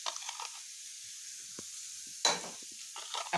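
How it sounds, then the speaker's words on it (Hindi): Cut potatoes frying with spices in a pan give a steady hiss of sizzling oil, broken by bursts of louder crackle and scraping as they are stirred, heard close with no voices. "जो मैंने आलू काट के रखा है उसको डाल दूंगी। मसाला के साथ ही फ्राई होगा।"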